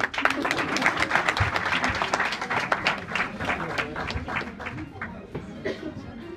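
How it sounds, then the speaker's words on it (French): Dense, steady applause from an audience at a student awards ceremony styled after the Oscars, with many overlapping claps close by that ease off slightly toward the end. "Les applaudissements"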